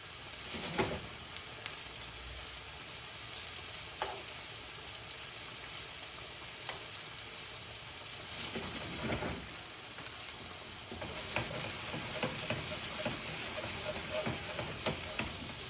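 Meatballs with paprika frying in a pan, a soft, constant sizzle and spatter, with occasional clicks and scrapes as the pan is shaken and the meatballs roll around.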